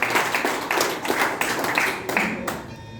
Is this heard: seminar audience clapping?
yes